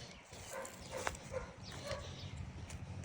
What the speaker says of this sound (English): Damn, dog's always going crazy over there.